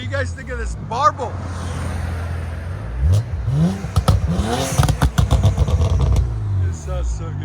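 Twin-turbo BMW 335xi 3.0L inline-six fitted with a VRSF downpipe and Borla S-Type exhaust rumbles at idle nearby, then revs in several rising blips with crackles, while people talk over it.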